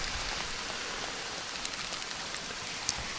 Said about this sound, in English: It is bucketing down